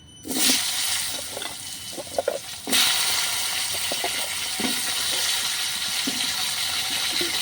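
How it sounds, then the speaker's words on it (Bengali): Potatoes tossed into hot spiced oil in a pan, starting with a loud rushing sizzle that surges again, then a steady hiss broken by occasional scrapes and knocks of a spatula, close and without speech. "এবার মানে আলুগুলো কিছুক্ষণ ভেজে নিতে হবে"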